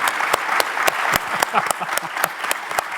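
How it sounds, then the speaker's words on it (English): Applause for a panel at an education event, steady clapping with distinct sharp claps standing out near the front, no voices breaking through. "let's give them a hand clap and let's thank them all."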